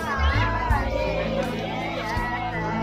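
Crowd of guests gathered at a Mayra (bhat) wedding ceremony, a loud, dense murmur of many voices with children shouting and occasional whoops close by, steady throughout.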